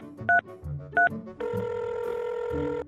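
A toy telephone used to call a doctor, two short electronic dial beeps followed by a steady ringing tone, close and fairly quiet.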